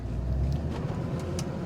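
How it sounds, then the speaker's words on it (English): Low engine rumble from a truck with an Allison transmission that is not shifting properly, driving along a road, a steady close drone from inside the cab. "let's just drive down the road back towards my shop"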